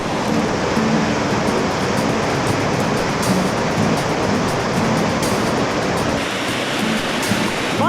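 Floodwater pouring over a road overpass at an estimated 1,000 to 2,000 gallons per second, a loud, continuous roaring rush close by with no talking.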